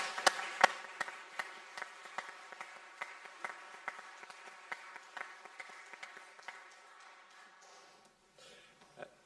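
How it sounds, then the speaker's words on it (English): A church congregation applauds during Sunday worship at a United Reformed Church, with a crisp burst of clapping that thins into scattered, separate claps and fades out toward the end. "I think a round of applause is due"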